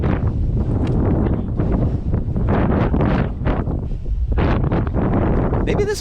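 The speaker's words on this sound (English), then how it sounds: "You can hear the wind." Strong wind gusting across an exposed cliff-edge chain section of the Angel's Landing trail in Zion, roaring and buffeting the microphone continuously with uneven, rumbling surges throughout.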